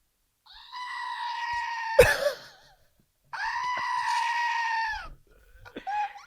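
A Screaming Goat novelty toy lets out loud, close goat-like screams: a long wail, a sharp clack, another long scream and a shorter final burst, with no talk over it.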